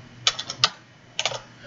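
Keystrokes on a computer keyboard during a lecture, heard as two short bursts of crisp, close clicks separated by a brief pause, with no talking.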